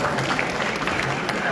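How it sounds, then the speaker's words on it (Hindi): Brief burst of audience clapping at a Hindi book launch event at a book fair, a dense wash of many hands, fairly loud and continuous, with a murmur of voices mixed in. "तालियां तो एक बार बजनी चाहिए।"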